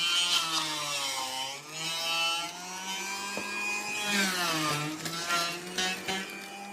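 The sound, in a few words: electric juicer juicing whole bitter gourd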